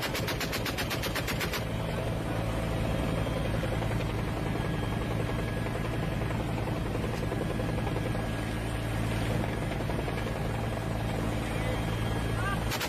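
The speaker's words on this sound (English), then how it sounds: "those are the helicopters, the U.S. Supported helicopters" A U.S.-supported military helicopter thrums steadily with loud rotor chop and engine drone, continuous throughout, with a voice talking over it and some sharp cracks mixed in.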